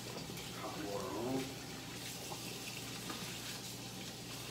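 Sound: hot water running from tap

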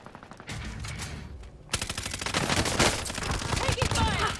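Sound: gunfire in the video game Rainbow Six

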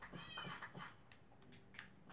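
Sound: cat meowing

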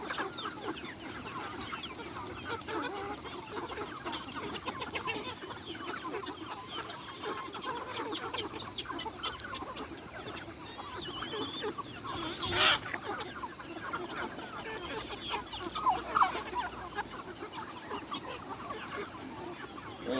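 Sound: chickens clucking

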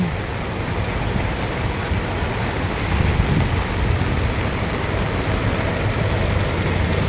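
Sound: rain

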